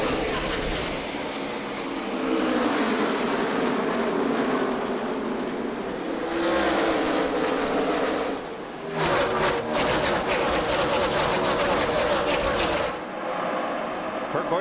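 NASCAR race cars charging off at the start of a 2011 Phoenix desert race, a loud sustained roar of engines that swells after six seconds and again near nine, with crowd and commentary blended underneath.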